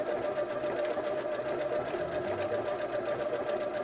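A domestic sewing machine running steadily while sewing an overcast edge stitch with a double zigzag, a continuous fast mechanical whir with rhythmic needle pulses, close and fairly quiet, with no talking.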